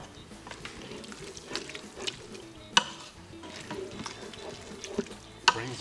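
Wine simmering and sizzling in an Instant Pot with jambalaya ingredients, a steady low bubbling hiss broken by a few sharp metallic clinks of a spoon against the pot.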